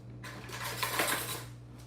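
Cutlery and dishes clatter in a home kitchen while a spoon is fetched during couscous and popcorn dinner cooking, a steady rattling jumble with a low hum beneath, no talking.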